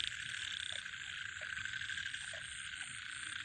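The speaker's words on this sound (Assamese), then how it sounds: "বাৰিষাৰ কাল আৰু ভেকুলীৰ মাত শুনি লওক এবাৰ।" Frogs croaking at night in village fields during the rainy season, a chorus with short repeated croaks over a constant shrill insect-like drone, fairly faint and without talk.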